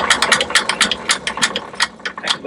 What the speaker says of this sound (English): It's a generator and a starter motor in one.